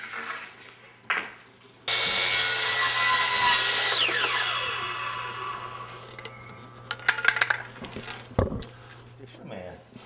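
A power saw cuts through wooden trim with a loud sustained whine and grinding rasp lasting a couple of seconds, then winds down, followed by clattering knocks as pieces are handled and people talk.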